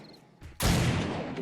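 A shotgun fires once in the zombie-horde survival game 7 Days to Die: a sudden loud close blast with a long decaying tail, after a brief softer sound.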